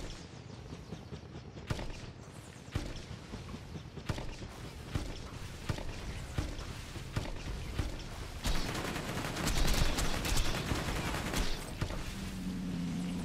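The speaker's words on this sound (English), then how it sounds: "You can't shoot the gun" Gunfire in Borderlands' Hammerlock DLC rings out as a string of sharp, separate shots, irregularly spaced, followed by a denser burst of rapid fire and mechanical clatter near the end.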